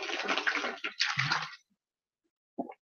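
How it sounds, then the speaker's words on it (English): A person drinking water up close, with a run of wet sips and gulps over about a second and a half, then a pause before one short final swallow. No one speaks. "I had to drink some water."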